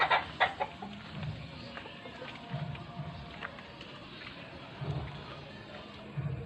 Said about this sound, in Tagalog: ang manok natin dinala natin dito para medyo naalagaan natin